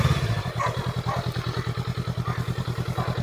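A 2020 Honda Rebel 500 idles after a ride, its engine thumping in a steady, even pulse close by, moderately loud with no talk.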